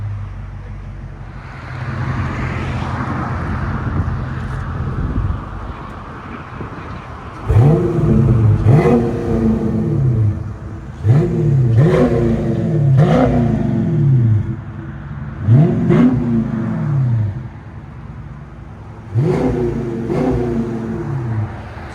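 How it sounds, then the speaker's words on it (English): A 2021 Dodge Challenger 392 with a 6.4L HEMI V8 and aftermarket exhaust, accelerating hard through several gears. Each upshift brings a rising roar and a brief dip between pulls, heard loud from inside the car without talk. "I'll punch it down the road so we can get a good gap"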